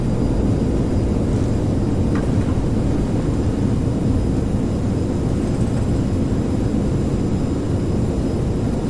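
Simulated Aerosoft CRJ airliner in Microsoft Flight Simulator landing at Valencia with thrust reversers deployed, giving a steady, loud low roar of jet engine noise that holds evenly throughout without talk.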